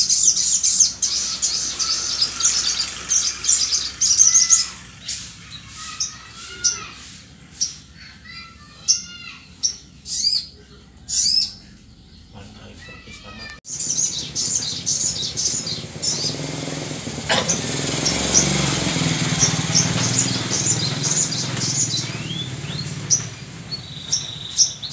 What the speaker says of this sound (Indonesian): saya mempunyai burung yang rajin bunyi